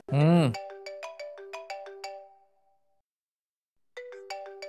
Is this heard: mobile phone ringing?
yes